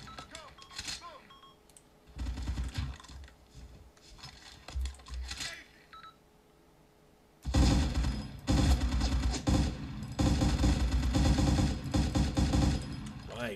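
Arma 2 gameplay gunfire from an enemy machine gunner: scattered shots and short bursts early on, then a loud sustained stretch of rapid automatic fire, with a voice speaking in between.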